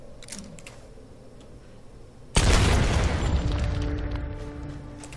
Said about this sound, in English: Come on, explode.